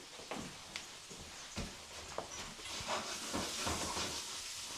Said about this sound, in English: Do you want to just give that pan a shake with the meatballs